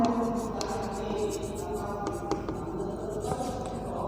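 Marker or chalk writing on a board while a maths problem is worked out, a steady scratchy stroking sound running continuously at moderate level with a few sharper taps, no speech over it.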